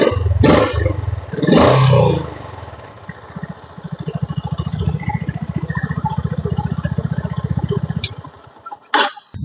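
A Honda CB350 motorcycle engine idles with a deep, steady thumping pulse, after a couple of loud revs at the start and a brief mechanical clunk near the end.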